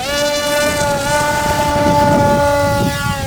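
HobbyKing Skipper RC seaplane's electric motor at full throttle during a takeoff from rough water, a loud steady high-pitched whine with strong harmonics that rises slightly in pitch and holds throughout, with water noise beneath.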